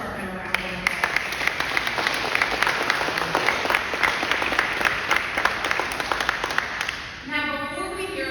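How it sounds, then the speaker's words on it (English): Sustained applause from an audience at a police department graduation ceremony, steady dense clapping for about seven seconds before it fades, with a voice heard at the close. "If we can give the police department a round of applause."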